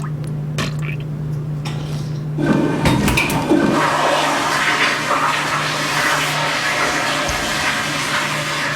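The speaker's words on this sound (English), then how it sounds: "I got a much better recording of the toilet flushing than their diarrhea." A toilet flushes loudly and up close, beginning with a sharp whoosh and settling into a long, steady rushing and refilling of water that continues through the rest of the recording.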